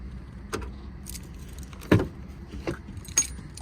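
A bunch of keys jangles in short metallic bursts, with a sharper rattle near the middle and a few lighter clinks after, close by in a quiet room with faint background hum.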